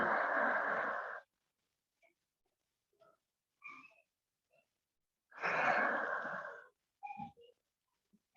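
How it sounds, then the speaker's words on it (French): Two long, breathy exhales through the mouth during a reclining yin yoga twist, each a soft airy rush lasting about a second, separated by quiet pauses with faint small sounds. "Peut-être tu vas expirer par la bouche."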